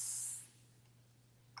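A short, bright hiss of a spray bottle squirting water, one burst at the start, then near silence before a faint click at the end.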